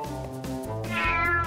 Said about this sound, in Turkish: Kedi uyandı.